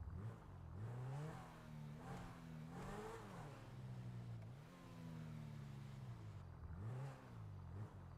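A car engine in a video game revs and wavers in pitch while the car drifts along a highway, the rises and falls repeating over several seconds, fairly close and with no talking.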